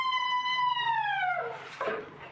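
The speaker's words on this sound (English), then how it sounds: "Oh my God, sirens?" A siren wails with a steady pitched tone that slowly drops and fades, followed by a brief burst of noise near the end.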